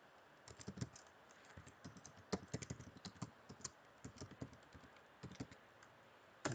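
Fingers tap out a Linux sudo adduser command on a computer keyboard: quick, irregular bursts of close, crisp key clicks with short pauses between words, and no one speaking.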